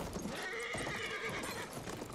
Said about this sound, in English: Take that horse out.